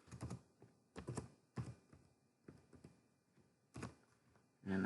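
Bursts of close keystrokes on a computer keyboard come in short irregular clusters separated by quiet pauses, with no talking.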